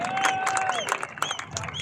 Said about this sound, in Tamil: எல்லாருக்கும் ஒரு பெரிய கைத்தட்டல் கொடுங்களேன் எனக்காக